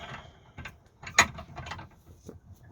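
A hand-wound tool compresses part of an Austin Princess brake assembly. It gives a close mechanical ratcheting and clicking with a few sharper clacks, in brief uneven bursts with no talking.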